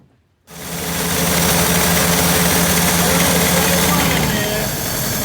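A 1948 Willys Jeepster engine fires up after a starter repair and settles into a loud, steady, rumbling run close by, holding an even roar to the end with a slight dip near the finish.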